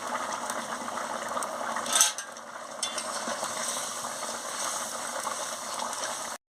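Cabbage fritter curry with potato simmering in a pot, a steady close bubbling hiss running throughout with a brief louder burst of clatter near the start.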